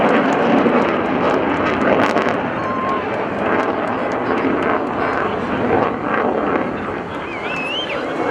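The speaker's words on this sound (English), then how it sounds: "He's gonna come slow, so when he lights it up, we should see both burners lit." An F/A-18 Super Hornet roars past with both afterburners lit at a night beach airshow, a loud, sustained broadband jet rumble that swells and holds, with an announcer talking over it.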